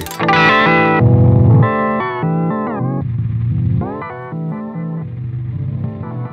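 Electric guitar through a Way Huge delay pedal set fully wet, notes smeared into heavy echoing repeats and chorus-like wash, with no clean dry tone, just the delayed signal ringing on.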